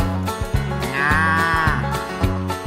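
Cattle in a livestock truck moo loudly and close by, one long drawn-out call rising in the middle. Rhythmic low knocks and a steady rumble run underneath the whole time.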